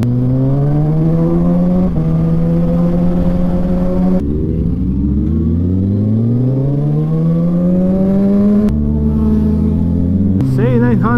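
Kawasaki Z900 inline-four motorcycle fitted with an SC Project exhaust revs loudly and up close, its pitch sweeping up and dropping back through several throttle blips, ending in a quick sharp rise.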